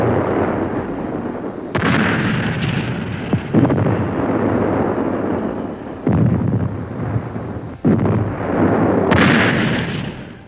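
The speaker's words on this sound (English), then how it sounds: "The Navy ships with their 8 and 16-inch guns are able to fire up to 23 miles inland." Navy ships' 8- and 16-inch guns firing artillery in the Vietnam War, several heavy, loud booms with rolling rumble that carries between shots, each blast spaced a couple of seconds apart.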